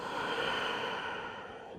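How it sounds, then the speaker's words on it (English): A long audible Ujjayi breath during a yoga session, a soft breathy whoosh like a sigh that fades slightly toward the end, heard up close with no speech. "Find that Ujjayi breath"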